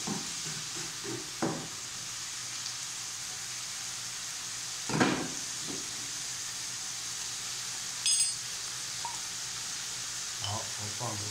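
Pickled cabbage stir-fries in a wok, a quiet steady sizzle with occasional scrapes and clatters of the spatula stirring, near and alone.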